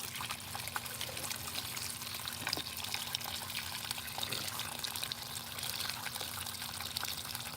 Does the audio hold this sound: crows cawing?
no